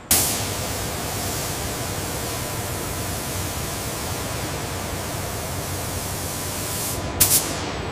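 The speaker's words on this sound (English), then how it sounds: "Robotic sprayers apply the radar-absorbent material coating to critical edges of the wings, nacelles, and nose area of V-22 Osprey." Robotic sprayers apply radar-absorbent coating to the wing edges, nacelles and nose of a V-22 Osprey inside a long, pressurized, automated paint tunnel. A steady, loud spray hiss runs throughout, with a brief louder burst near the end.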